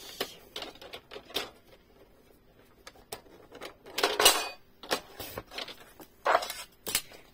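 Paper card being cut for a diamond-effect scrapbooking pop-up card: quiet scattered clicks and taps, then two louder, brief rasping cutting strokes, close by and alone.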